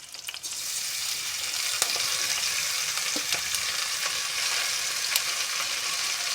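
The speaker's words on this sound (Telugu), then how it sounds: "పాలకూర అంతా నూనెలో ఫ్రై చేసుకుందాం." Spinach frying in oil in a pan gives a steady, loud hissing sizzle throughout, broken by a few sharp crackles and pops.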